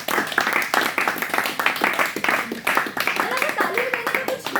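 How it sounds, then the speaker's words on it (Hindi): Students at a school guest session clap together in a lively, uneven burst of applause, loud and close, with some voices mixed in under the clapping. "तालियां बजा दो।"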